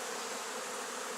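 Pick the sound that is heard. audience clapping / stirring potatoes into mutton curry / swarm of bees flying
swarm of bees flying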